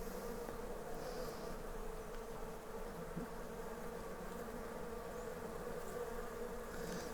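Stingless bees buzzing close by at a hive box during feeding, a soft steady drone of many wings with faint individual passes, continuous and quiet with no speech.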